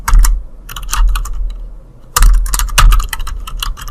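Close computer keyboard typing code for an HTML page layout: bursts of quick clicking keystrokes, a short pause, then a second flurry of loud taps.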